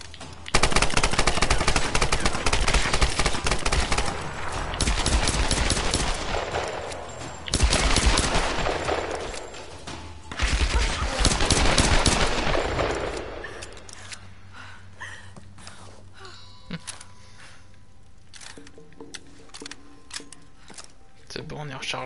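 Rifle fire in Tomb Raider on hard difficulty crackles in rapid loud bursts, three long volleys of closely spaced shots, then fades to a quieter stretch with a few faint knocks.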